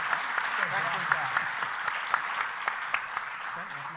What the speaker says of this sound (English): Let's give a round of applause for all the panelists here.